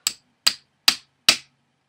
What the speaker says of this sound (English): usually just a light tap with the hammer